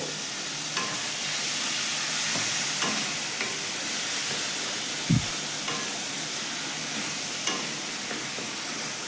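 Ground spices and ginger frying in a pan with splashes of water, stirred for a Bengali pumpkin chhakka: a steady close sizzle with light scraping strokes and one brief low knock, no talking.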